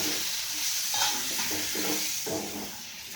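Capsicum curry being stirred in a pan, with a soft continuous sizzle and several scraping strokes of a spoon across the pan, moderately close and no voices.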